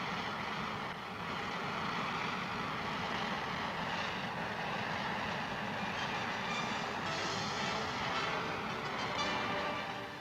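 A military transport aircraft's engines roar steadily during takeoff, a broad, continuous drone of heavy prop or jet power that swells briefly and stays loud for the whole stretch, with no voices.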